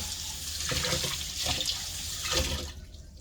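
Warm water from a kitchen tap pouring into a cup, a continuous rushing splash with rising surges, close and fairly loud before tapering off at the end.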